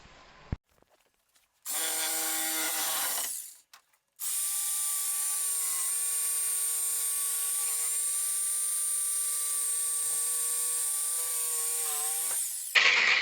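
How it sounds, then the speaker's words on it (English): A reciprocating saw fitted with a metal blade cuts through a timber joist, a loud close buzzing rasp in a short burst followed by a long steady cut of nearly nine seconds. "So I'm just going to chop this out with the recip now"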